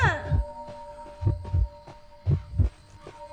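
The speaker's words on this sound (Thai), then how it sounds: "ทำไมฉันหัวใจเต้นดังจัง" Heavy, thumping heartbeat pulses in pairs from the game Identity V, steady and close, over a faint electronic hum with occasional sparkly game tones.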